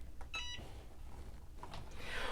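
Cricut EasyPress heat press timer beeping: a short burst of bright, close electronic beeps early on, followed by quieter background noise and faint handling sounds.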